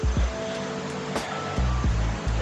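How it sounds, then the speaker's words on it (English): River flowing through a forest in Ubud, Bali, a steady close rush of water under a few low thumps and bumps. "There's a river that goes through here."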